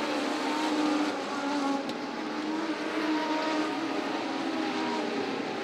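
Speedway race cars at Sydney Speedway roar down the main straightaway, a loud, sustained engine drone with slight swells as they pass, heard alone without any talk.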